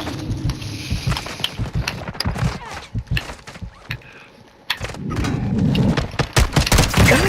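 Scattered gunshots and rapid bursts crack through Call of Duty Warzone 2.0 combat, some near and sharp, others lighter, with a brief lull midway before denser firing and clatter resume.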